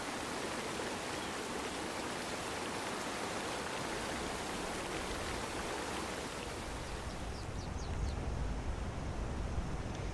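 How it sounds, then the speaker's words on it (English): A huge, gurgling waterfall from a sound mod for a video game pours in a continuous, dense wash of rushing water, even and close, with a slight swell near the end and no speech. "Yeah, that sounds like a huge waterfall."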